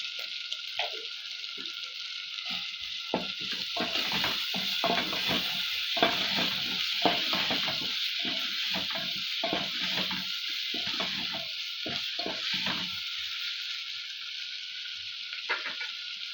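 Ginger and garlic fry with prawns in a pan, a steady bright sizzle throughout with repeated scraping stirs and clatters of the spatula, close and continuous with no talking.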